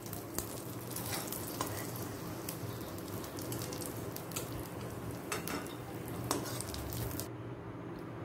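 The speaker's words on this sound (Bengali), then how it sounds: "হালকা লাল করে ভাজতে ভাজতে এর মধ্যে দিয়ে নিলাম কিছু কিশমিশ" Cashews and raisins fry in hot ghee in a kadai with a steady crackling sizzle and occasional stirring scrapes, close and continuous before it cuts off near the end.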